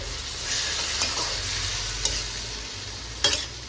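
Minced meat fries steadily in a pan for stuffed bitter gourd, a continuous close hiss of sizzling with a few soft stirring scrapes and clinks over about four seconds.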